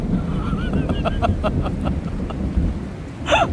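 Thunder rumbles over steady rain during a summer monsoon storm, a loud, continuous low roar with some faint honking calls on top and a brighter burst near the end, no talking.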